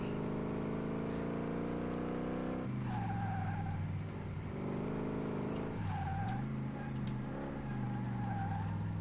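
A Tempest Magnum car in Car Mechanic Simulator 2018 revs loudly with a steady engine drone that rises and falls between gear changes, and brief tire squeals break in near the middle and toward the end.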